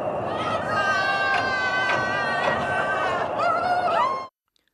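Russian embassy staff and their families push a loaded rail handcart across the Tumen River bridge from North Korea into Russia, cheering and shouting together in a steady, lively chorus of voices that cuts off abruptly.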